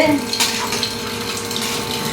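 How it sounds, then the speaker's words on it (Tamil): Water poured into a pot of rice in a home kitchen, a short steady splashing stream close by, loud and alone. "ஒன்றரை கப்பு தண்ணி ஊற்றுவேன் தண்ணி ஊற்றியாச்சு"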